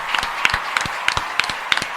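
Applause from a small crowd honoring inventors invited to MIT: scattered claps with a few sharper individual hits, moderately loud and steady over two seconds, no talking.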